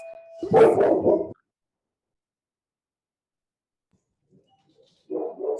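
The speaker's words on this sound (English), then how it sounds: "So I have a Mastiff, and he has one job, and that is to bark when someone rings the doorbell, and he is on it." A Mastiff barks at a ringing doorbell: a loud, deep burst of barking up close for about a second, then silence, then another round of barking starting near the end.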